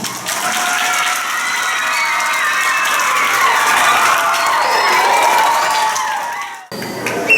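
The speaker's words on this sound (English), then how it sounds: "give yourself a round of applause" Audience at a primary school sports championship breaks into applause mixed with cheering and children's shouts, a loud, busy crowd roar that stays level for several seconds before cutting off abruptly near the end.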